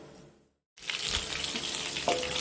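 Mustard seeds with a little fenugreek and cumin splutter in hot oil for a traditional pachasundaikai kulambu, a dense steady sizzle with scattered crackles starting after a brief silence, close and fairly loud, no talk.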